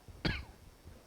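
A single sharp cough from a preacher during an early-morning church service, one brief burst in a quiet room.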